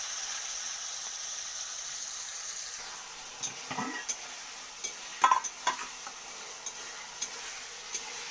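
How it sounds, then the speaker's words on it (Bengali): Chicken fries in a home kitchen pan for mixed fried rice, a soft steady sizzle broken by scattered ticks and clinks of stirring and utensils against the pan, moderately near. "আমি এরপর চিকেনটাকে ভেজে নেবো"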